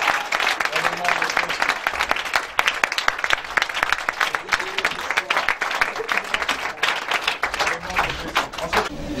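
A congregation at a Sunday evening deliverance church service applauds, sustained loud clapping that rises and falls in waves, with voices and shouting mixed in.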